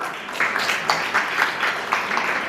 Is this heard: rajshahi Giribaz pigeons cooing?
no